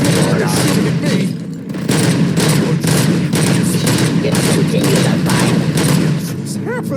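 Sustained rapid gunfire from enemies in RoboCop Rogue City, a dense rattling stream of shots with a few short gaps, loud and close, mixed with game noise.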